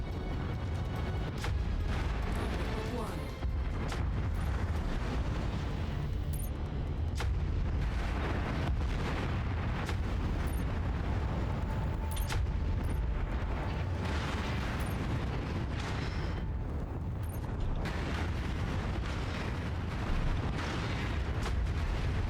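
Ammo detonating in explosions in the mech combat game MechWarrior 5: Mercenaries, heard as a dense, continuous rumble of heavy booms and blasts, loud and close throughout, with no talking.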